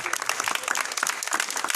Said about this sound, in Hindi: तालियां बजा दो बच्चों जोर से।